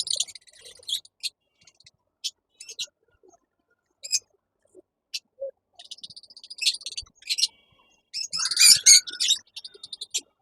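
Small pet birds kept in cages chirp and tweet in scattered bursts, with a busier cluster of sharp calls near the end and quiet gaps between.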